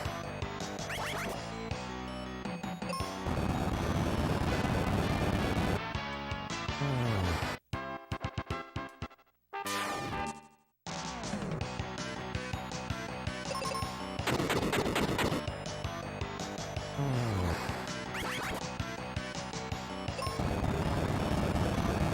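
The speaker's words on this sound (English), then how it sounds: "Let's try explodey bombs." Bombs explode in a Final Fantasy Mystic Quest battle on the SNES. Dense crashing blasts repeat over busy game sound, with a couple of brief near-silent gaps partway through.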